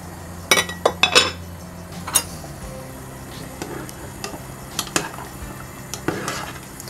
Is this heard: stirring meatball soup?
yes